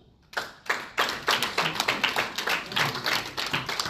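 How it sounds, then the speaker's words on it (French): Audience applause at an installation ceremony for a political sub-section in Luxembourg, starting abruptly and building into a brisk, fairly close clapping rhythm with distinct individual hand claps. "On applaudit très fort quand même."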